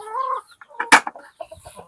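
Black Australorp breeder chickens on a farm give a short burst of soft clucking, with one louder squawk midway and a few quieter clucks after, close to the microphone.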